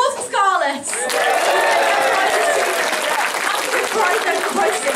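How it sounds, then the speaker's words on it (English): Convention audience at Ponycon UK in Leeds bursts into loud, sustained applause and cheering after a brief voice, the clapping filling the room evenly for several seconds. "Applause for Scarlett!"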